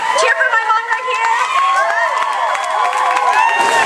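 A crowd at a Filipino Pride Day 2012 gathering cheers and shouts steadily throughout, with high whooping voices rising over a dense, continuous roar close by.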